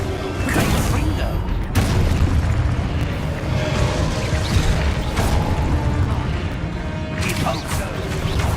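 In the game Hogwarts Legacy, Confringo fire spells explode in heavy booming bursts amid continuous combat noise and sharp impact cracks, with voices shouting over the chaos.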